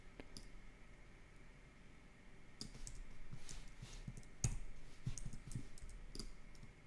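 A computer mouse clicks several times at a desk, sharp close clicks spaced irregularly over a low steady room hum, with faint handling sounds between them.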